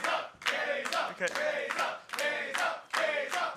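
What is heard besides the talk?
wrestling crowd chanting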